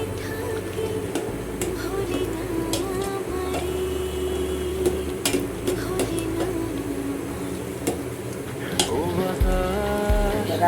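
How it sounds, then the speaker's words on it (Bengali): A spice tempering is poured into lentil dal cooked with water lily stems, setting off a dense, loud crackling sizzle like heavy rain. It continues steadily, with scattered sharp pops throughout. "ফোড়ন দিয়ে দিলাম।"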